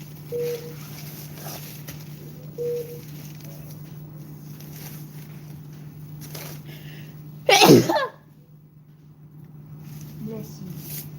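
A single sharp, loud sneeze bursts out close by in a quiet indoor room with a steady background hum, brief and forceful, preceded by faint rustling and short tones.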